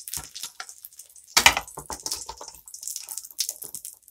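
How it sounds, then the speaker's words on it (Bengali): Radhuni spice tempering hitting hot oil over fried fish in a pan, a sharp bursting sizzle that flares loudly then settles into crackling spits and frying hiss, no voices. "এবার আমি একটু রাঁধুনি ফোড়ন দেব মাছে।"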